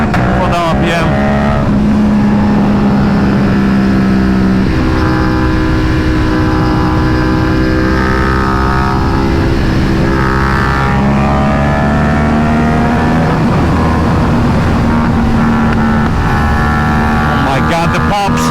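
Tuned TVS Apache RS457 motorcycle with an SC Project S1 exhaust revving hard near 10,000 RPM, loud close engine drone rising and falling with crackling exhaust pops, a rider's voice talking over it.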